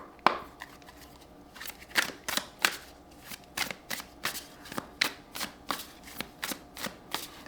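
A deck of journal prompt cards is shuffled by hand: a run of about a dozen crisp, papery riffles and snaps, close and fairly loud, at a brisk, uneven rhythm with no voices.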